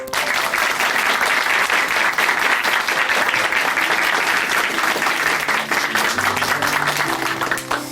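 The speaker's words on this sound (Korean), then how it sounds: "오늘 귀한 간증 전해주신 노혜경 자매님께 다시 한번 응원의 박수 보내드릴게요" Sustained, dense applause from a large church congregation, loud and steady for several seconds before easing slightly near the end.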